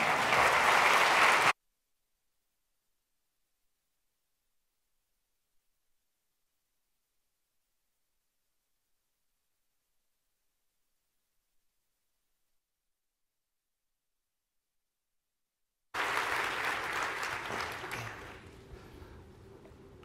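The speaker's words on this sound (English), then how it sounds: "So will you help me give a great and grand applause for Charles Baby as he takes the stage?" A loud burst of crowd applause cuts off into long silence, then applause returns and gradually fades out.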